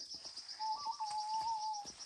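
A person whistles an imitation of a bird call, a single sustained warbling tone lasting over a second, heard close over a faint high outdoor insect-like hiss in rural Piauí, Brazil.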